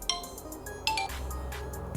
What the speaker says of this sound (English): So wherever your phone would be, it would ring automatically.